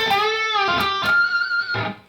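An electric guitar holds a sustained note in a solo, bending it up a whole step and shaking it with vibrato among a few quick picked notes, close and clear.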